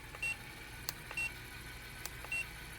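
A Let's Resin AI mixer beeps at a button press, sounding three short, clear electronic beeps spaced roughly a second apart over a quiet background, with a couple of faint clicks between them.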